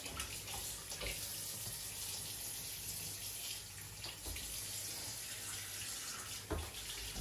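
Tap water running in a kitchen sink to rinse food, a steady close rush of flowing water with a few splashy knocks, no voices.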